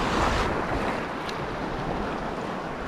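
Ocean waves slapping against a small fishing boat out at sea, a dense continuous wash of water and rushing wind noise buffeting the microphone, close and steady with no voices.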